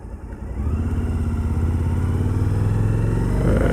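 A Suzuki V-Strom 1000 motorcycle engine drones steadily while riding, building slightly in loudness as the throttle opens, with a close, pulsing exhaust note and wind noise.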